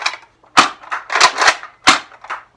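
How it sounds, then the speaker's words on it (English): A Nerf Longstrike blaster dry fires several times, each shot a sharp, close snap with rough rattling between them, spread irregularly across a couple of seconds with no talking. "It sounds terrible when I dry fire it"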